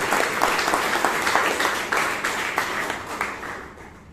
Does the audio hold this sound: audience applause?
yes